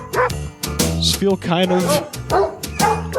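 A voice imitates a howl, loud and close, with rising and falling dog-like yips and whimpering glides mixed into his speech.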